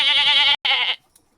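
A goat bleats loudly up close, two strained, wavering cries split by a brief gap, followed by near silence.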